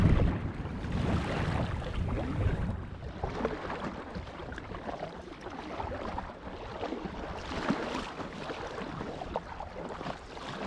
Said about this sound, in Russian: Ветер настолько настырный, что на этой, в общем-то, неширокой речке Хаканча поднял шторм.